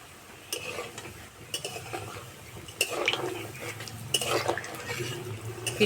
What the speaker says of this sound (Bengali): আর পিঠেগুলো ভাজার সময় আঁচটা একটু জোরে রাখতে হবে